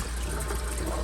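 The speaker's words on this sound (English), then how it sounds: "I'm gonna run some cold water in a tiny hole just to kind of help it complete its thawing inside there" Cold tap water runs steadily into a thawing turkey in a kitchen, a constant dense splashing rush at close range with no talk.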